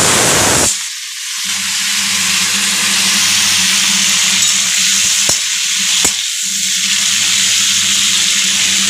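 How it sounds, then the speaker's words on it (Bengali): Drumstick stems fry in hot oil with panch phoron, a loud, steady, close sizzle that carries on throughout, with a faint low hum underneath and a couple of brief clicks. "দিয়ে এবার ডাঁটাগুলো ভালো করে ভেজে নেব।"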